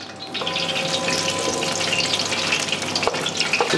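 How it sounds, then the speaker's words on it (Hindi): Green chilies fry in hot desi ghee for a Pakistani-style chicken kadai, giving a steady loud close sizzle and crackle throughout, with no speech. "मिर्ची डालूंगा मैं, और मिर्ची को मैं पूरी तरीके से फ्राई कर लूँगा।"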